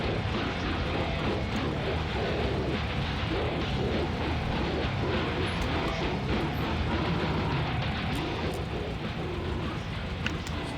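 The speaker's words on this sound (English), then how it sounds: "Excuse the noise, the engine's having trouble." A troubled car engine in the video game My Summer Car gives a loud, steady rumbling drone that runs unbroken throughout, with no talk.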